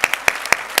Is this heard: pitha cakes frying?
no